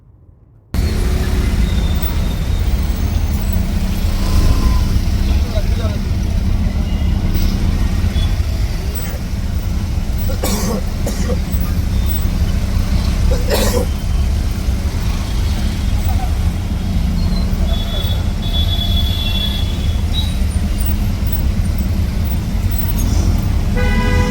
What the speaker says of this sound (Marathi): ट्रॅफिक पाहू शकता खतरनाकवालं ट्रॅफिक आहे पुण्याला